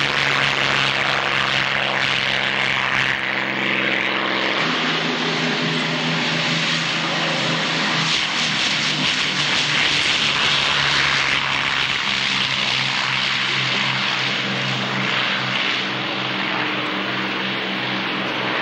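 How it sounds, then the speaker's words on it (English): A Hawker Hurricane warbird at the 1994 Wroughton Airfield airshow, its piston engine a loud, continuous throbbing drone with a steady propeller pulse, close and sustained, with no voices. "There's the Hurricane going out."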